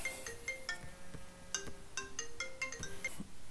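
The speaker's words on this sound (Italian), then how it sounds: "mi era suonato il cellulare proprio durante il tutorial" A mobile phone ringtone plays a bright, bell-like melodic pattern of repeated tones, close and steady throughout, with no talk over it.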